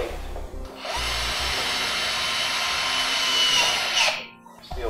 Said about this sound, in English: We're just gonna take our simple self-tapping sheet metal screw and go into the side of the battery junction box plate.